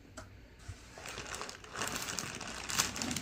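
A paper receipt is folded and crinkled up close, soft crumpling rustles building over a few seconds.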